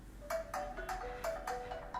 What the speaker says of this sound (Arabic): لو الساعة ضاعت منك، تعمل find device وتعمل ring، والصوت عالي